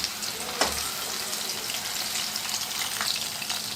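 Chicken pakoda frying in hot oil on a medium flame, giving a steady, close sizzle and crackle with a brief stir or splash near the start.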